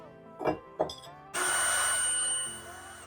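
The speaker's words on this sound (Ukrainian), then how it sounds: "відкручуємо фіксувальні болти від е, кронштейнів кріплення баку" Fixing bolts being unscrewed from the mounting brackets of a storage tank in a G60 model vending machine: two short knocks, then a close, steady whirring of a driver tool that runs for about a second before tapering off.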